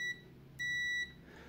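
A multimeter in continuity mode, used for testing parts of a Krups coffee maker, gives two short electronic beeps: a brief one, then a longer steady tone of about half a second, clear and close against quiet background.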